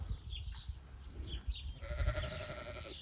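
Sheep bleat while being moved with cattle to the next paddock, several calls rising over a steady outdoor rumble of wind and movement, with one clearer sustained bleat near the end.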